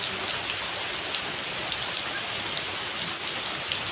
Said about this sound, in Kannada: ಮಳೆನೇ ನೋಡುವ ಟೆನ್ಷನ್ ಮಳೆನೇ ನೋಡಿ